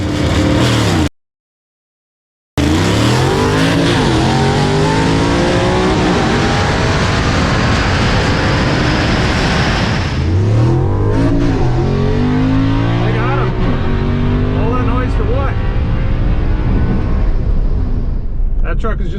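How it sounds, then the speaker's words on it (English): A drag race truck called The Paralyzer, a roll-caged pull-out race truck, roars hard down the strip with loud, rising engine revs after a brief dropout. The roar stays dense throughout, and the sound shifts as the truck pulls away. "Truck is just about the loudest thing in the parking lot, and it was quick."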